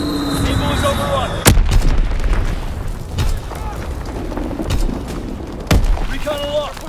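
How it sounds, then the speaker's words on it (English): Azon bomb explosions in a WW2 video game: two sharp, heavy booms stand out over a constant rumble of battle, with voices in the mix. "Dropping Azon bomb."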